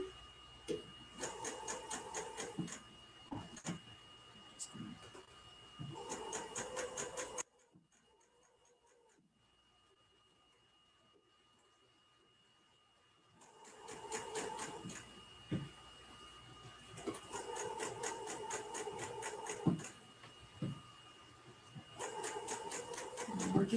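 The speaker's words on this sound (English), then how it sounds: "We're just going to serge," An overlocker serger stitching a blindstitch hem on folded fabric runs in bursts of rapid, steady mechanical ticking, stopping for a few seconds of near silence midway before resuming; close and fairly quiet, with no talk.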